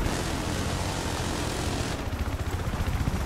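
Attack helicopter rotor thumping and engine whine in the video game Battlefield 4 fill the scene, steady at first, then a rhythmic chopping pulse grows more distinct.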